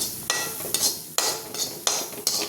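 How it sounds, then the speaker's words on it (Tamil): Grated coconut being lightly sautéed in a pan, with a spoon scraping and stirring it in several distinct strokes, close and fairly quiet, with a soft crackle between the strokes. "அந்த ஈரப்பசை போகிற வரைக்கும் லைட்டாக வதக்கிக்கலாம்"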